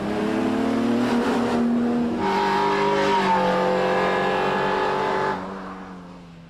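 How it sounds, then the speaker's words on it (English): A rally car on a TARGA Tasmania stage in 1997: a loud, close engine revving hard and climbing in pitch, with a gear change partway through, before the sound drops away. "That gearbox sounds a bit seasoned too."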